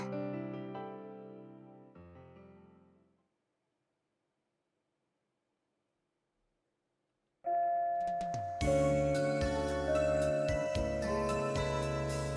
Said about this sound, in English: As the lunch bell rang, excitement filled the school.